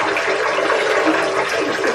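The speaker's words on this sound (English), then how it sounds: "This is it with the water pump on." A water pump runs on an off-grid property, filling a water tank: a steady, loud rushing and splashing of flowing water that continues unbroken throughout, with no voices.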